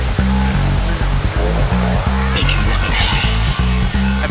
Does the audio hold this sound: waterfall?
yes